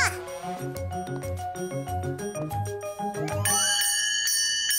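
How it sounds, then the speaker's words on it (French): Small bell rung repeatedly in a children's cartoon scene, bright tinkling strikes over a bouncy musical backing, growing to a sustained ring near the end. "C'est moi qui vais faire sonner la cloche."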